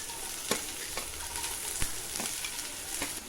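Onion and green chili sizzling in hot oil for a cassava fry, a continuous crackling hiss punctuated by sharp stirring clinks and scrapes, close and fairly loud.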